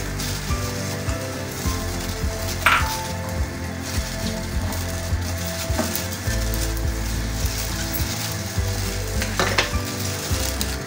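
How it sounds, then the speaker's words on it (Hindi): Steady oil sizzling as onions fry in a pan, continuous and fairly close, with a few brief stirring scrapes and no talking. "उसमें हम ऑयल डालेंगे और प्याज को फ्राई करेंगे।"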